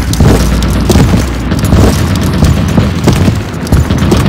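A grenade goes off in a team video game, a loud, dense roar of booms and crackling gunfire that fills the whole stretch without a break.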